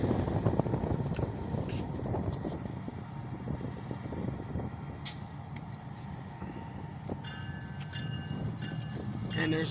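A Norfolk Southern freight train rumbles past with steady low mechanical noise and rattling, fairly close, while someone talks over it; a high tone rings near the end.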